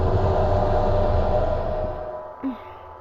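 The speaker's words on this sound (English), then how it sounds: "So it's the sound of the elevator coming down." Elevator descending in the horror video game Fatal Frame 4: a steady, loud mechanical hum and rumble that gradually fades, ending with a brief low thud or clunk as it stops.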